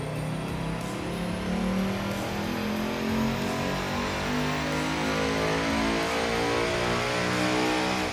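A 2018 Mustang GT strapped to a dyno revs continuously, its engine tone climbing steadily in a sustained, loud, unbroken run.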